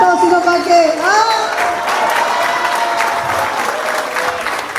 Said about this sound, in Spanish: Muchas gracias por todos los aplausos